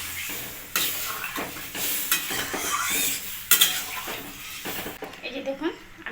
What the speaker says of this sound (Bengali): এখন দিয়ে দিচ্ছি আমি জল।